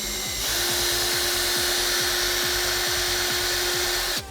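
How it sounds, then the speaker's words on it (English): A power drill bores a pin hole in a Nerf pistol part, a steady high whine with rhythmic chattering pulses, close and loud throughout before stopping abruptly. "I'm also going to run the drill in just a little bit"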